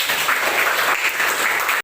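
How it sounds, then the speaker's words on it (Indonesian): Loud, brisk clapping from a room of children in a school classroom lesson, close and continuous, then cutting off abruptly at the end. "tepuk tangan dulu"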